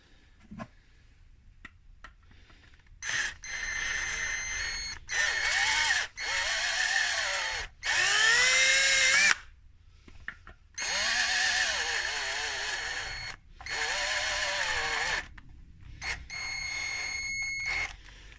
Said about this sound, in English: My drill won't quite reach down there.